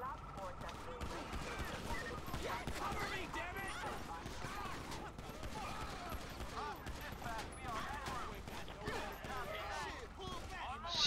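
Gunfire in the GTA 5 video game during a police gang unit patrol: a dense, moderately distant fusillade of rapid overlapping shots that carries on steadily throughout, with a voice talking over it.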